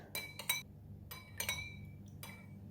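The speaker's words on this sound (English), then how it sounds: "we're gonna mix all these 3 ingredients together" Spoon clinking against a bowl while mixing garlic soy sauce ingredients for blanched water spinach, a few quick, sharp metallic taps in small clusters, fairly close and quiet, with no talk.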